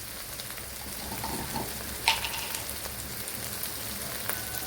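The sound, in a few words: masala frying in a pan for chicken liver fry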